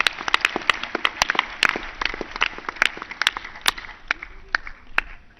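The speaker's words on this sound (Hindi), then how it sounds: "मान्या जी के लिए जोरदार ताली बजाओ भाई" An audience claps for Manya at a yoga gathering, scattered sharp hand claps forming uneven, fairly close applause that thins out toward the end.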